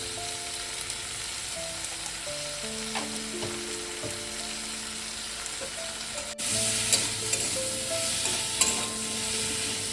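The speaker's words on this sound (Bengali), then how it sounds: "মিনিট 2-3 আমি নেড়ে নিলাম ভালো করে" Potato and eggplant pieces with chillies frying in a pan for a fish curry, a steady crackling sizzle with scraping stirs throughout, growing louder and brighter partway through.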